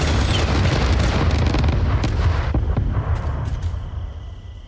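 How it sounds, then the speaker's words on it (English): Heavy booming explosions in the factory-building game Satisfactory, loud and dense at the start with low rumbling blasts, then thinning into scattered sharper bursts that fade toward the end. "if you heard explosions, don't worry about it"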